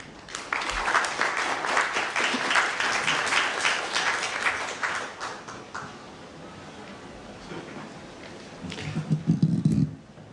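Audience applause in a conference hall at a Korean infrastructure cooperation forum session, welcoming the opening speaker; dense clapping sustained for about five seconds, then thinning to scattered claps and a brief late burst.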